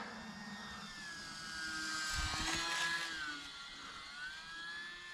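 A small electric E-flite UMX Carbon Cub SS model plane whines overhead, its high buzzing pitch sliding up and down as it passes nearby, swelling then fading slightly.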